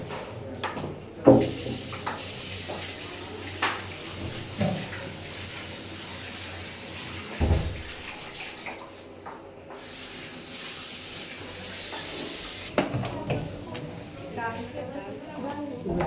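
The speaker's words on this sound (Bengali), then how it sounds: "হাতটা ধুয়ে নিচ্ছি" Hands washed under a running tap in a hotel, a continuous hiss of flowing water with splashes, while people talk throughout.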